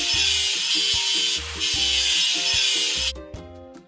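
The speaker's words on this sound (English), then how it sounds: "Drag the grinding tool over the stain and it will clean the rust." A grinding tool scraping rust off a stain in a kids' video game, a loud rhythmic rasping cut into short repeated strokes, followed by brief clattering chimes at the end.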